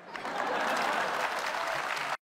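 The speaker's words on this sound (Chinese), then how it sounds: "谢谢您热情的掌声" A comedy stage audience at a xiangsheng crosstalk show bursts into dense, steady applause that holds loud and even for about two seconds before cutting off abruptly.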